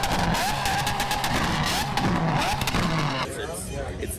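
Supercars and hypercars at a Miami Beach rally on South Beach, engines roaring loud and near with a brief tire-squeal-like screech, crowd voices and talk mixed underneath throughout.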